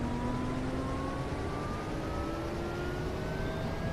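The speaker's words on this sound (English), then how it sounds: "The engine noise hooked you." Train engine in the video game Running Train, a steady loud drone with slowly rising whining tones that climb in pitch as the train accelerates, continuous throughout with no talking.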